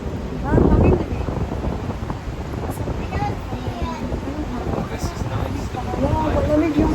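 Gusty wind buffets the microphone outdoors, rumbling steadily while people talk over it.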